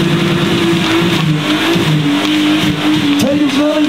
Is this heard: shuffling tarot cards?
no